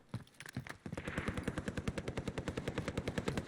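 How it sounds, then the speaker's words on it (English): Automatic gunfire from a gunfight in the Warzone video game, a rapid, steady burst of shots after a few scattered single cracks, somewhat distant and muffled. "Gunfight's clearly way the hell off to the east."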